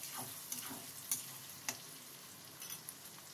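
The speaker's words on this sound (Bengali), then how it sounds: "এইগুলোকে আমি একটু হালকাভাবে ভেজে নেব, বেশি লাল করব না।" Chili chicken ingredients fry lightly in a pan with a quiet, steady sizzle, broken by a few soft scrapes and clicks of stirring.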